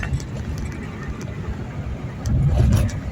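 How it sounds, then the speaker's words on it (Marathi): A car drives at around seventy on an empty highway at night, with a steady low engine rumble and road noise from inside the cabin that swells slightly toward the end. "गाडीचा स्पीड आहे जवळजवळ सत्तर"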